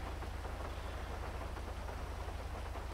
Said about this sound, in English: It's a crazy time to fly a chopper when it's raining and it's getting foggy.